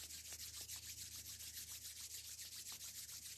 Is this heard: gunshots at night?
no